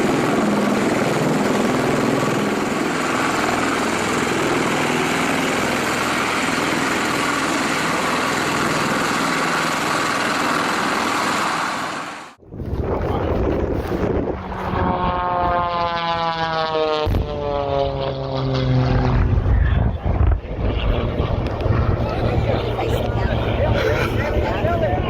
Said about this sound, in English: Facing winds of 320 km per hour in a V-22 Osprey.